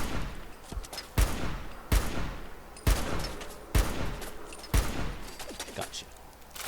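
Gunfire from the Fallout 4 video game: six sharp, loud shots spaced roughly a second apart, each with a short echoing tail, set against a quiet game background.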